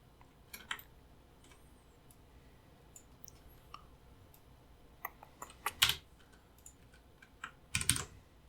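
A computer keyboard with sparse, quiet key clicks scattered over a hushed room, a few sharper pairs of taps clustered near the end.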